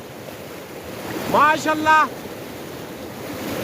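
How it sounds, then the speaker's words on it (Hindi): Fast, deep river of mountain snowmelt near Thalay Broq village in Gilgit-Baltistan, rushing as a constant broad roar with wind, and a voice briefly exclaiming over it. "ये उन पहाड़ों से बर्फ पिघल कर पानी आ रहे हैं, बहुत तेज पानी है"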